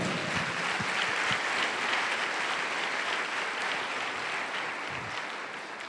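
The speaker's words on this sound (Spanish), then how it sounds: "Den un aplauso al Señor." A church congregation applauds in a dense, sustained wash of clapping that sounds moderately distant and tapers slightly toward the end, with no speech over it.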